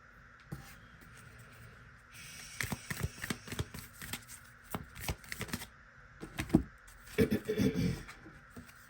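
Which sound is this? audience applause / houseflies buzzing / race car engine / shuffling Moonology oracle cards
shuffling Moonology oracle cards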